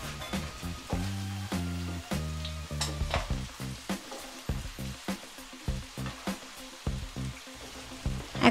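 A jujube pickle cooking with jaggery is stirred in a pan, with rhythmic scraping strokes about once a second over a soft bubbling sizzle, close by and without any talk.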